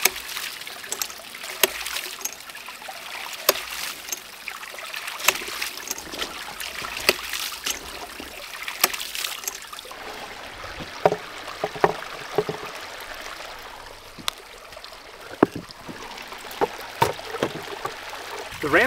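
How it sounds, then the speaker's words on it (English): A hydraulic ram water pump runs on its own, giving sharp, regular clacks over a steady rush of flowing water, close by and continuing throughout. "The ram pump now has sufficient pressure in the pressure tank and back pressure on the delivery pipe to keep this pump running 24/7 all the time"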